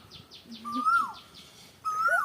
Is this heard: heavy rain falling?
no